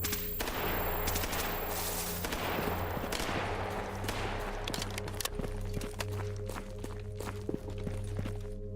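Gunfire in the game STALKER GAMMA, with several sharp shots spread out and a short burst of rapid fire near the start, heard over a low steady rumble and footsteps.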